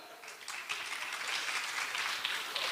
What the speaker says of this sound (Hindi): आप लोगों के लिए जोरदार तालियां.